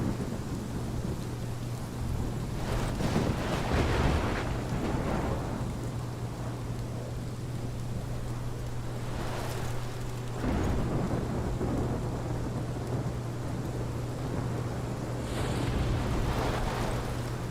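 A heavy thunderstorm in the video game Life is Strange Remastered, with steady pouring rain throughout, several deep thunder rumbles rolling through, and a low constant hum underneath.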